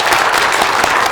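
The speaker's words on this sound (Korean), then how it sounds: "우리 두 분 형제 자매님께 다시 한번 격려의 박수 부탁드립니다." Congregation applauding at a church training completion service, a dense, steady wash of clapping filling the room without any break.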